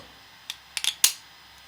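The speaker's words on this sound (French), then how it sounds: "Alors on va tester la fermeture." A custom 3D-printed brush box snapping shut: a handful of sharp, close plastic clicks, one single tap followed by a quick cluster and a final louder snap, with no talk.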